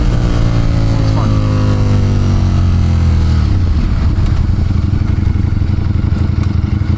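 Sport bike motorcycle engine while riding, a loud steady drone that holds high and then drops in pitch partway through as the rider eases off, close and continuous throughout.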